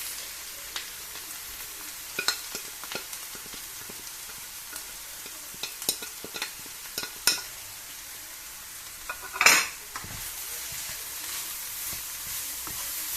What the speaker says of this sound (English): So you make sure you fry, you allow it to fry good.